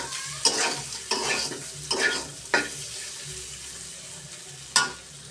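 Okra boiling in a pot, to be mashed into a spiced okra dish, gives a steady low bubbling hiss broken by about five sharp, louder splashy bursts spaced every second or so, close by with no voices.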